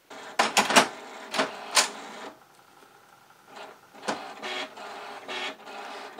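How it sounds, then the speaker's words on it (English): HP Deskjet 2540 printer powering on, its mechanism whirring and clacking in a series of short mechanical bursts and pauses as the ink cartridges shift to the middle, close and quiet. "once the printer is turned on, the ink cartridges will come to the middle here"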